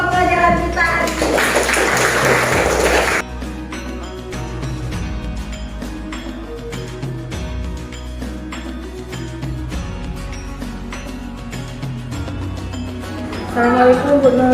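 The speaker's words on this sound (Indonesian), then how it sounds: "tepuk tangan dulu untuk pembelajaran kita hari ini" Group clapping in a classroom lesson, a burst of dense applause at the start and again at the end, with voices and light tapping in between.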